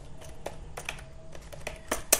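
Keys tapped on a computer keyboard while typing a bulleted list in MS Word 2007, a quick uneven run of light clicks at close range with no voices.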